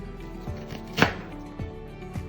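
Knife cutting onion into square pieces on a board for chili chicken, a few distinct chops spaced about half a second apart, one sharper and louder strike in the middle, close and clear.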